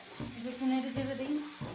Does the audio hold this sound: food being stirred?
yes